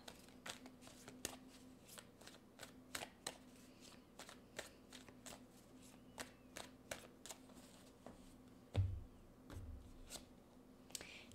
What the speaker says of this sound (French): Je vais chercher deux autres cartes.